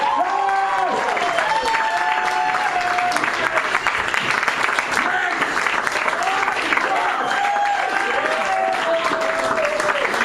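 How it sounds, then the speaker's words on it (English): Comedy club audience applauding a comedian at a tribute gig, a dense, steady wash of clapping mixed with whoops and crowd noise that stays loud and close for the whole stretch. "nobody claps me that much ordinarily"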